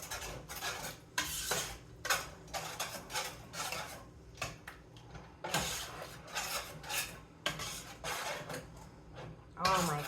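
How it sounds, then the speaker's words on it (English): A spoon scrapes and clanks rhythmically through homemade chili sauce in a metal pot, loud repeated strokes with short gaps, and someone talks between them. "Stir it up."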